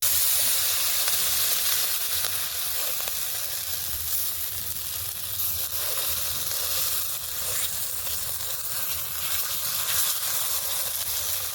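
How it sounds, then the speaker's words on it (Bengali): A little oil spread across a kadai with a spatula as it heats, giving a steady, close hiss and sizzle that runs unbroken for about eleven seconds, with no talking. "অল্প একটু তেল দিয়েছে কড়াইয়ের মধ্যে, সেই তেলটা খুন্তি দিয়ে মা সারা কড়াইয়ের মধ্যে লাগিয়ে নিচ্ছে"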